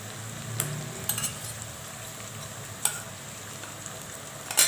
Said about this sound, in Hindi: अब इसमें मैं गोश्त से ऐड कर रही हूँ। गोश्त की भुनाई करूँगी